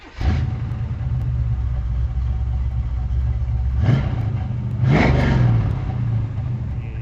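A 1969 Chevrolet Chevelle muscle car with dual exhaust starts and runs, recorded from behind: a loud, steady low rumble of the engine with two brief revs swelling midway, no talking.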